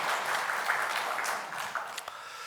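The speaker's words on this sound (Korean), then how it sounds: "다시 한번 큰 박수로 좀 연해 주시기 바랍니다" Steady applause from a church congregation during a Sunday worship service, a dense even wash of clapping that runs the whole time and tapers slightly near the end.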